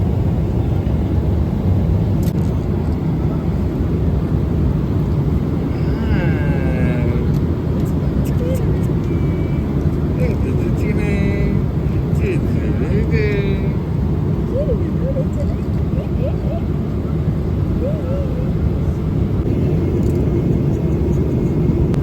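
Steady loud cabin drone inside an airplane in flight, a constant whirring rumble filling the background while people talk faintly and a voice is heard in places.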